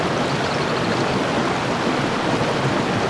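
Water rushing steadily over a small waterfall in a gold-bearing creek, a dense, continuous broadband roar that stays close and even throughout with no voices.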